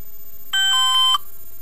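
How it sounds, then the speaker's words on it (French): A short electronic ringtone from a Classic Top 2 senior mobile phone plays a quick tonal chime of a few clean beeps lasting about half a second, alone against a quiet background. "vous avez différentes sonneries"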